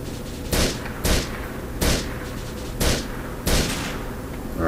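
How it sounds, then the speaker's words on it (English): Sniper rifle gunfire in Grand Theft Auto IV: five loud, booming shots spaced roughly a second apart, each with a short rolling tail, over a constant background rumble. "Now will be the time for a sniper rifle."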